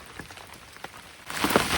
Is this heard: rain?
yes